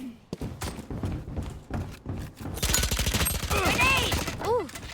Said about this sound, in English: Why is he fucking firing?